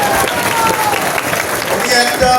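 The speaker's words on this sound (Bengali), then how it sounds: "হাততালি দাও আরেকবার" Applause from an audience at a motivational seminar, a dense, steady patter of many hands clapping throughout, with crowd voices mixed in.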